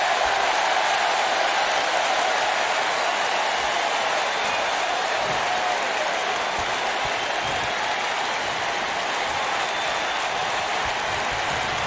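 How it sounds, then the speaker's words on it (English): A packed wrestling arena crowd roars and cheers continuously during a tag team championship match, a dense, loud wash of noise with no break. "I don't remember the last time I heard a more passionate crowd than the one we have here tonight"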